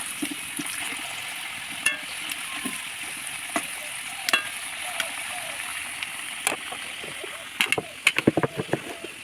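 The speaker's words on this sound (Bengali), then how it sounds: "ততক্ষণে আলুগুলো আর একটু নাড়াচাড়া করবো।" Potatoes and chopped onions fry in a pan while being stirred, a steady low sizzle with scattered spatula clicks and a quick cluster of scraping taps near the end.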